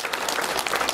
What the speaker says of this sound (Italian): questo applauso significa un ringraziamento da parte di tutti i cittadini